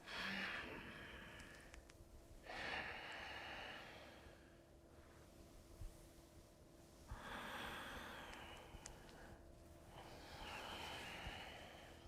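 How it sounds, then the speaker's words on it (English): Slow, deep yoga breaths during a class, with long airy inhales and exhales alternating in a steady rhythm, close and soft, with no talking. "just the sound of your breath"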